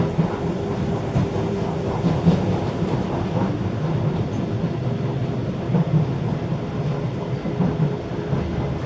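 A London Underground train bound for Lewisham rumbles steadily along the rails, a continuous deep roar with faint rattles and no voices.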